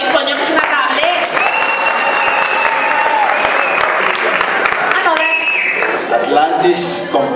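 Audience at a fan convention panel clapping, a dense burst of applause mixed with overlapping voices and loud talk and tones on top, fairly close and lively throughout.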